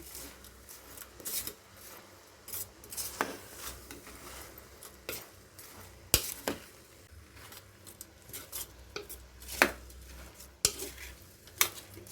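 A spoon scraping and clinking in a pan while chana dal, grated coconut and cardamom powder are mixed into a sweet obbattu filling, faint irregular taps and scrapes spread across a quiet kitchen background.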